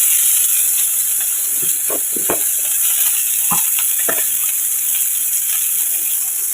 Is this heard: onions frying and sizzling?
yes